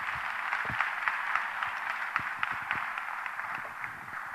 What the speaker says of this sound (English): let's have another round of applause for all the heroes, our 3 entrepreneurs who have spoken so well